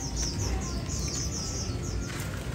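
White-rumped shama singing, a clear series of repeated high whistled phrases over a steady background hum, fairly close, with a short pause before the song resumes.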